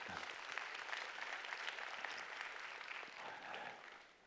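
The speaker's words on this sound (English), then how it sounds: "round of applause." A live audience at a business conference applauds steadily in a dense, even wash of clapping that holds for about four seconds and eases slightly at the end, fairly soft in level.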